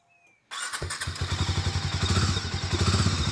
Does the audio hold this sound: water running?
no